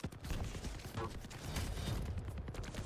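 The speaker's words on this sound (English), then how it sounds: "Oh my god, the amount of machine gun damage he does." Rapid machine gun fire from the Quake video game during a competitive match, a dense continuous rattle of shots running throughout under faint background noise.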